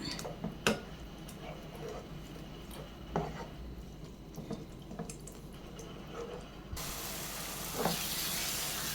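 A spoon stirs a thickening banana and jaggery mixture in a pan for a steamed banana cake, soft scraping and sticky bubbling with occasional light taps, quiet and close, with no voices.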